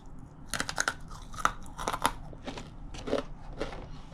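Crunchy snacks such as banana chips, sweet potato chips and berries being chewed close up, a string of sharp, crackling bites and crunches scattered irregularly over a few seconds with no talking.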